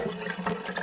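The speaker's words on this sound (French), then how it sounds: "Il y a de l'eau courante." Running water splashes steadily from a tap at a winter chalet, a continuous close rush of water with no voices present.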